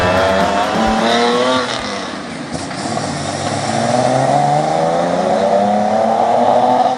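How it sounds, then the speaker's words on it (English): A 1980s Nissan Skyline Turbo 2000 GT ES with a turbocharged L20ET inline-6 making 140 horsepower races in Need for Speed. The engine drones loud and close, dipping briefly, then revving steadily higher with a faint tire squeal. "The 1980s Skyline Turbo 2000 GT ES featured a turbocharged version of the L20ET inline-6 engine producing 140 horsepower."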